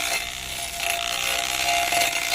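A grass cutting machine runs steadily in a farm field, giving a loud, continuous buzzing drone without pause.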